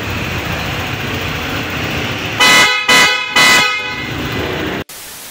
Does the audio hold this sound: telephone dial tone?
no